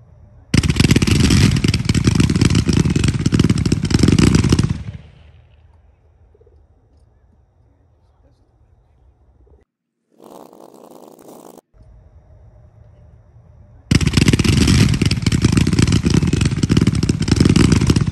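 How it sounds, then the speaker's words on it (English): A 105-shot multicolor Z-cake firework by 76 Pro fires in a loud, rapid, roaring barrage that stops, goes quiet with a brief rustle, then bursts again with equal force. "It's a 105-shot multicolor Z-cake."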